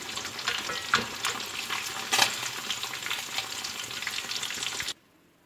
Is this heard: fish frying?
yes